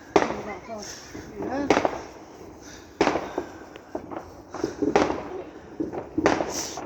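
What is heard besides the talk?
sparkler and fireworks on bonfire night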